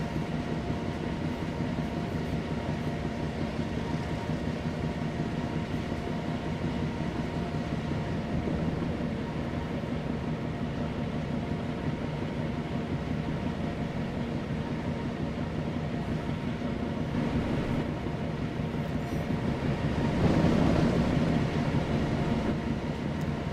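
Diesel locomotives in the train simulator game Train Sim World 2, BR Blue era, a steady droning engine rumble with faint rail clatter, continuous and unchanging, swelling slightly near the end.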